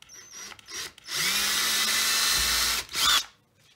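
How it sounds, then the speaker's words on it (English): An electric hand drill fitted with a 3/32 inch bit bores a hole in wood: a short whir, then a sustained high motor whine for about two seconds, then a brief final burst, close up. "We're going to take our electric hand drill. It's got a 3/32 drill in it,"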